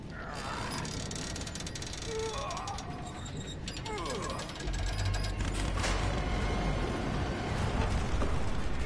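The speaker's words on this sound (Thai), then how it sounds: "เอาแล้วเสียงเลื่อย" A saw whirs and grinds in the horror video game The Evil Within, a continuous mechanical rasp that swells louder partway through over a steady rumbling background, with no talk.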